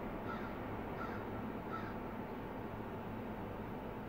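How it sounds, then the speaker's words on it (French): A single crow caws a few times at a distance, faint against a steady outdoor background with no talking. "Tu as entendu le corbeau aussi?"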